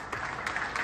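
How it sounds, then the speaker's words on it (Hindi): Brief applause from a crowd at an association's golden jubilee gathering, a short burst of clapping heard from a moderate distance, fairly steady with slight swells. "जोरदार तालियां बजते रहने चाहिए"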